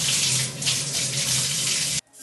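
Water from a bathroom shower runs in a steady, close hiss and then cuts off abruptly near the end.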